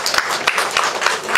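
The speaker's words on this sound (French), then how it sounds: "Sous vos applaudissements" An audience claps steadily at a French open-house inauguration event, a dense, close burst of applause with no voices over it.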